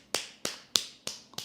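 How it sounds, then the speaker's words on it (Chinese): Palm patting the back of the other hand during a finger exercise, five crisp slaps at an even pace about every third of a second, close and alone. "开始拍手背啊"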